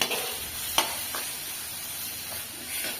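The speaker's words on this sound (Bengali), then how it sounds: "আর আমি যেরকম এরকম করে ভাজিছি, মাখা মাখা হয়েছে" Tender leafy greens (shak) frying in a pan, a soft steady sizzle with a few sharp clicks of stirring, fairly quiet and without talk.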